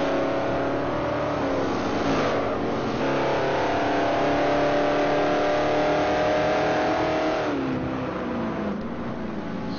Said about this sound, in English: Number 55 Camaro